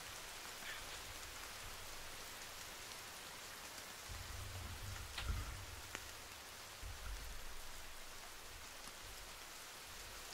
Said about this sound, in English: It's raining now. This game looks too real.